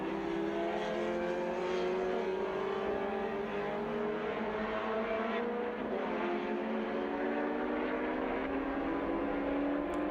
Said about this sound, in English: As Tom Chataway threads his car through the chicane